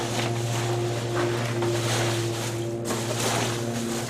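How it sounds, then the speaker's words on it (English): A steady lawnmower engine drone with a constant low hum runs throughout, loud and unbroken like a motor running nearby, with no talking. "apologies for the lawnmower in the background"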